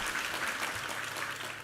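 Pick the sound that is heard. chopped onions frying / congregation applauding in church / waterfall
congregation applauding in church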